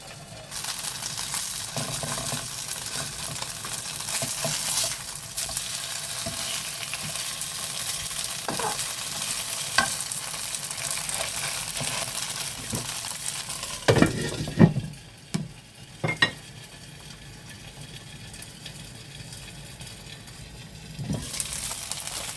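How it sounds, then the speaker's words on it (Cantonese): Turnip cake frying on the lowest heat in a pan, a continuous close sizzle with occasional utensil scrapes and knocks; midway the sizzle drops and grows quieter, as if covered, before brightening again near the end. "開最細火"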